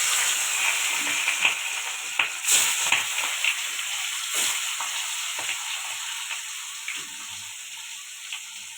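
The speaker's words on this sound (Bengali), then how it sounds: "এদিকে মাছটা ভাজা হচ্ছে" Fish frying in hot oil in a home kitchen, a continuous bright sizzle with scattered sharp pops and crackles, close and fairly loud, no voices.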